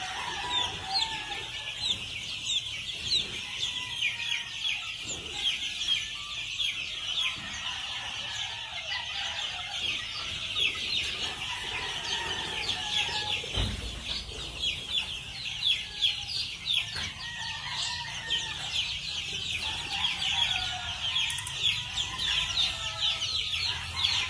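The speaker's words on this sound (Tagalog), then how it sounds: "Morning, mga chicks." Chickens on a gamefowl farm in the morning, clucking repeatedly with occasional crowing and bird calls, moderately near and fairly quiet throughout, with no talk.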